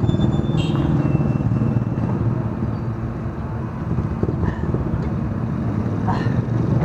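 A motorcycle passes on a road in Surigao, a steady engine drone that stays loud and continuous through the whole stretch, mixed with general traffic noise.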